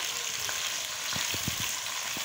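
Chopped tomatoes hit lightly browned onions in a hot pan, a steady close sizzle of frying with a few soft stirring knocks and scrapes partway through.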